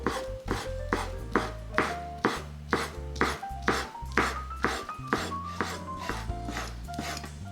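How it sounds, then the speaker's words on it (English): A knife chops through boiled egg on a cutting board in a steady, even rhythm of sharp close knocks, about two per second, with no talk. "Once the egg have cooled down, it's time to cut it. Cut into pieces about the same length as the other ingredients"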